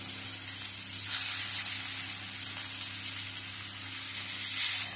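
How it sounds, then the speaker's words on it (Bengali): Pieces of fish frying in hot mustard oil in a pan, producing a steady, close bubbling sizzle with fine crackling that swells slightly now and then, with no voices. "এইভাবে অল্প অল্প করে মাছ দিয়ে মাছগুলো একটু লালচে করে ভেজে নেব।"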